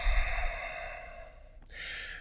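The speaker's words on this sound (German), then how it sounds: "Tief atmen." A person breathes deeply during a yoga-style movement session, with a long, airy exhale that fades, a short pause, then a fresh breath drawn in; close, soft and alone with no talking.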